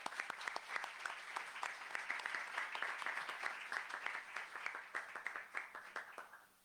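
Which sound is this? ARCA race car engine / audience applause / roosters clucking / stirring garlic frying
audience applause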